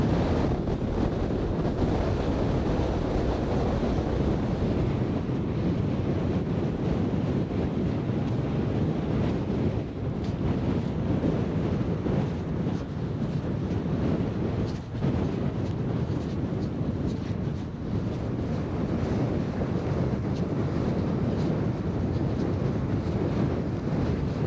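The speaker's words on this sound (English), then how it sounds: "I hope you can hear me, because the wind's really strong, as you can see." Strong wind roars steadily across the microphone on a coastal walk toward Sker Point near Porthcawl, a dense, unbroken rumble with waves washing underneath throughout and no audible speech.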